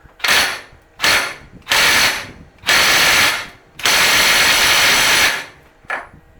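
Ratchet wrench turning a 36mm deep well socket on a 1997 GMC Jimmy ball joint, six loud, close bursts of rapid clicking, the fifth one long and sustained, with short pauses between strokes.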